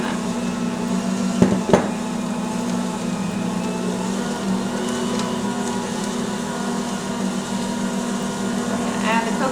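An electric mixer runs steadily through cookie dough, a constant whirring hum throughout with a couple of brief knocks near the start.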